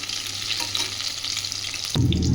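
Flour-battered chicken pieces frying in hot oil give a steady, close crackling sizzle, with a sudden louder burst of bubbling near the end.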